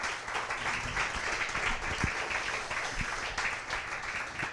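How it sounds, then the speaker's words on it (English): A round of applause from a seated audience at an evening talk event, steady moderate clapping lasting several seconds with a low murmur beneath. "would you please give them a round of applause?"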